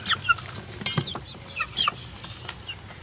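Two-month-old chickens drink and cluck nearby, giving soft scattered clucks and chirps over faint clinks and taps from their drinker.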